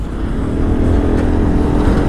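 An Aprilia SXR 125 scooter engine pulls at full throttle, with a steady loud drone and road rumble from a close, on-board position and no clear rise in pitch within the short span.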